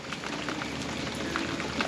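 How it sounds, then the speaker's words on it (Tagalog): Rain falling on a minivan and tent during a stormy night of camping, a steady, faint patter of drops spread evenly through the short stretch. "Grabe, umulan."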